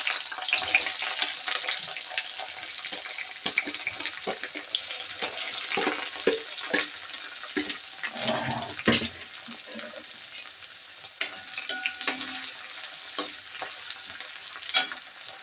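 Chopped onion sautéing in a pan for a wild kuda-flower vegetable dish, a steady broadband sizzle broken by irregular scraping stir strokes, close and fairly loud throughout with no talk.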